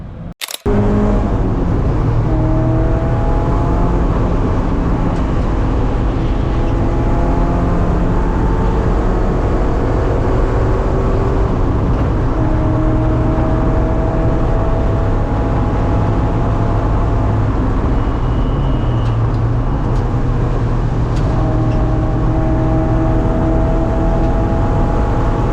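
Endurance race car running on track at Road Atlanta, engine droning loud and steady from inside with rising and falling pitch through gear changes.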